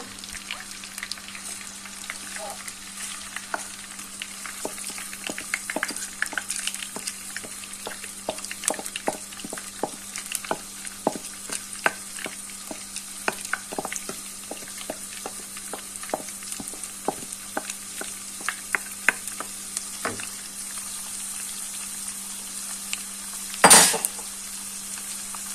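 Soaked, drained rice is added to hot oil in a pan for Turkish baked chicken and rice, frying with a constant sizzle while a utensil scrapes and clinks against the pan in irregular bursts, with one sharp loud knock near the end.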